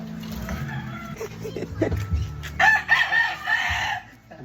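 A fighting rooster crows loudly nearby, a long drawn-out call in the second half, with people talking and background rustle before it.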